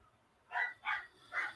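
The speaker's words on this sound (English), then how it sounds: "let me apologize for my dogs in the background if anybody can hear them." Dogs barking in the background at a moderate distance, three separate barks spaced about a beat apart, with no one talking over them.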